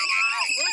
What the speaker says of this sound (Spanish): Una mujer grita en el suelo mientras oficiales de migración la sostienen para obligarla a subirse a uno de estos vehículos.